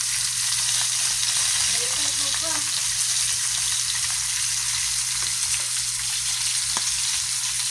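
Fish frying in a pan for sinugbang pinirito, with a steady, close, dense sizzle of hot oil throughout and a few faint clinks and stirs.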